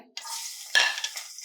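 Garlic hits hot oil alongside fried coconut pieces for a Kerala-style ginger curry, breaking into a loud close sizzle after a brief near-silence, with stirring scrapes and crackling continuing throughout.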